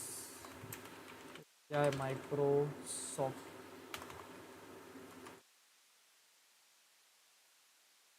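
Computer keyboard typing comes in quick bursts of clicks alongside brief talk, then stops, leaving only faint hiss.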